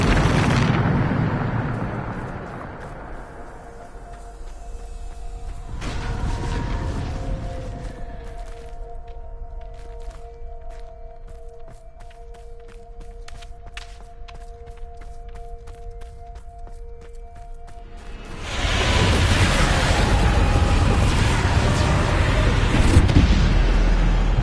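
A Bombarda explosion spell in Hogwarts Legacy erupts with a loud, broad blast, fades to a low hum with faint crackles, then a second heavy explosive roar swells and sustains to the end.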